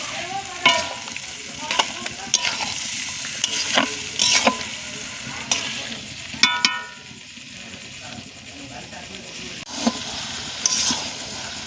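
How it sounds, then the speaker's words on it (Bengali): Chicken ghugni with potato and peas is stir-fried in a pan, a steady sizzle broken by repeated scraping strokes of a spatula, close and fairly loud, with no talking. "এবারে সিদ্ধ করে রাখা ঘুগনিটা দিয়ে আবার কিছুক্ষণ কষিয়ে নেব"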